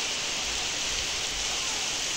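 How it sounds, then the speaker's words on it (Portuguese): Rain begins falling on a hot day in northeastern Brazil, a steady, even hiss of drops that stays soft and uniform throughout, with no voices. "Tava um dia quente, começou a chover."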